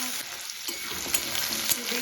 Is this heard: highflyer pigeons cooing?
no